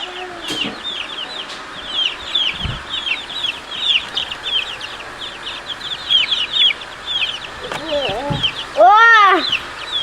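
A fresh batch of baby chicks on a homestead peep and cluck almost nonstop in close, high chirps, with a louder, more drawn-out call near the end.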